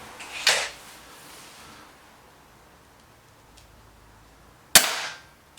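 Two sharp, close air rifle shots from a Webley Xocet, each a crisp crack with a short tail, separated by a few seconds of quiet.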